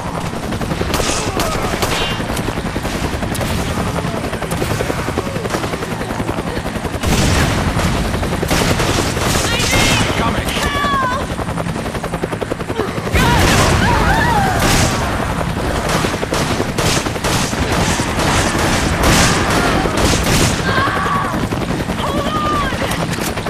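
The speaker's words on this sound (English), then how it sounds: "I can hear gunfire." Gunfire sounds through a loud, continuous outdoor scene, with bursts of shots and booms layered under heavy background noise and a possible helicopter-like rumble, lasting over twenty seconds.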